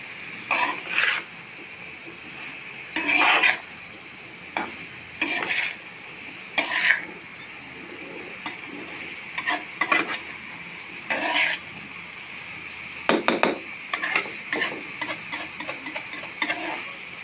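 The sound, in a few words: stirring vegetables with salt and black pepper in a pan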